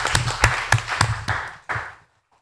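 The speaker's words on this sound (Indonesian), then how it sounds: "Tepuk tangan untuk kita semua." A small audience at a civic gathering claps, giving a handful of distinct, loud, sharp claps in a loose rhythm that taper off and stop after about two seconds, followed by silence.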